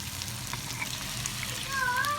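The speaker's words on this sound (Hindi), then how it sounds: "अब इसके अंदर हम डाल देंगे टमाटर और सब्ज़ मिर्चें।" Tomatoes and green chilies are frying with onions in a pan for a dhaba-style karela piyaz, giving a steady close sizzle with faint stirring and a brief tonal sound near the end.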